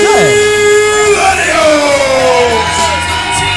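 Loud arena crowd at a wrestling show yelling and cheering for a tag team, a dense roar of shouts and whoops filling the whole stretch, with a voice calling over it.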